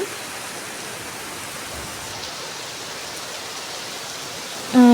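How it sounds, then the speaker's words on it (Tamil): Heavy rain pouring down in a constant broad roar, close and loud, holding steady for several seconds before a brief louder bump at the very end. "கொஞ்ச நேரம் தான் பெஞ்சுது அதுக்குள்ளே பார்த்திங்கன்னா நல்ல மழை வந்துருச்சு"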